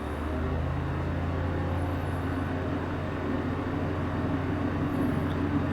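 A Hawk Arrow II light plane accelerating for takeoff in Microsoft Flight Simulator 2024, a steady droning propeller engine hum heard from inside the cockpit, loud and constant with no talking.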